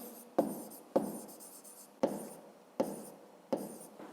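Pen writing in a notebook during a fifth-grade maths lesson, five separate short bursts of scratching strokes, each starting sharply and fading, close and quiet with no talk.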